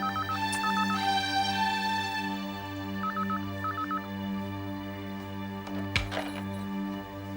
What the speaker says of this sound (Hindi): उसका ही फोन होगा